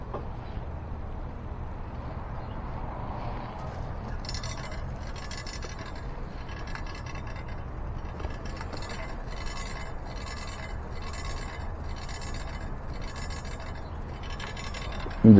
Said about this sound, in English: Why is my disc hitting the damn caliper?